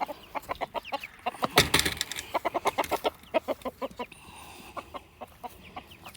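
Painted roosters and chickens on a family farm cluck in quick, rhythmic bursts close by, with one louder squawk early on and the pulsing clucks continuing steadily afterward.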